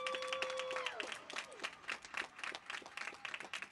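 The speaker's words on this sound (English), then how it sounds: "let's give our family members a huge round of applause at this time" Applause for graduates' family members at a high school graduation ceremony, many hands clapping in a dense, steady crowd ovation from an audience, with a brief electronic tone fading out at the start.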